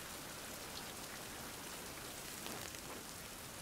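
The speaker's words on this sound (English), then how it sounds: "That's 2 hours gone, and it is still raining." Steady rain falls in the survival game Survival: Fountain Of Youth, a dense, even hiss of raindrops on surfaces that stays constant and fairly soft throughout, with no voices.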